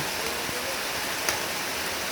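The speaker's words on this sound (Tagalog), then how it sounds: "Malakas yung ulan." Heavy midday rain pours steadily at an outdoor house-building site, a dense, even hiss filling the whole stretch with a faint tap or two.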